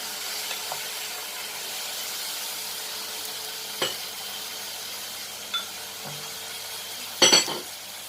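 Tomatoes sizzling in a cooking pan, a steady low frying hiss broken by a few light taps and a clatter of a utensil against the pan.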